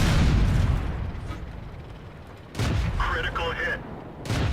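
Tank cannon fire in World of Tanks from an M8A1, a heavy booming blast at the start and another about halfway through, each followed by rumbling decay under game sounds.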